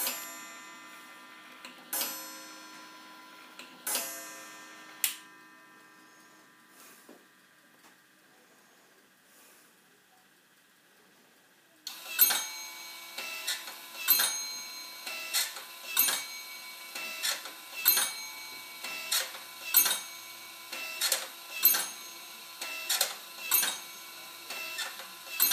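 A mechanical clock movement strikes the hour: a few sharp metallic strokes and whirring at first, a quiet pause, then a loud run of evenly spaced chime strikes over steady ticking and gear whir, close and alone.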